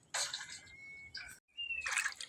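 Water trickles and drips over cut pangas fish being washed by hand in a kitchen, a close, splashy run of pouring and dribbling broken by a brief pause.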